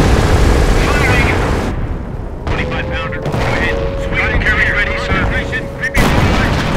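Artillery rumble from a 25-pounder creeping barrage in the Company of Heroes World War II strategy game, set around Caen in 1944, with loud sustained booming and battle noise throughout, plus a steady tone in the middle.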